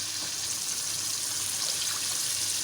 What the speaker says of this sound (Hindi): गोश्त डालने के बाद इसमें 1 कप पानी का ऐड कर देते हैं।